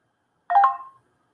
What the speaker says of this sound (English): I apparently forgot to silence my phone.